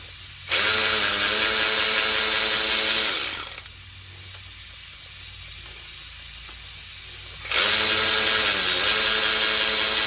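Power tool spinning off the two bottom bolts on a 2003 Subaru Forester during a timing belt and water pump job, using nut grip sockets. Two loud, sustained whirring bursts of several seconds each, separated by a quieter gap, with no talking.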